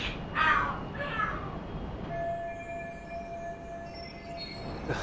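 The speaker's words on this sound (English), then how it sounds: "Are there cats fighting?" Cats fighting and screaming in the video game Lost Judgment, with a few sharp yowling bursts up front followed by a long thin wailing tone, fairly faint over background ambience, no talking.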